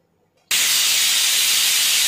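A pressure cooker cooking moong dal bursts into a loud, steady whistle of escaping steam after a quiet moment, hissing continuously and close up to the end.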